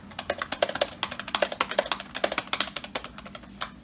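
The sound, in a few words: typing on a PowerBook 170 keyboard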